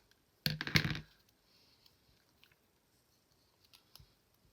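Paper scraps for a junk journal being cut with scissors: a short burst of two or three crisp snips close by, then quiet with a few faint rustles and taps.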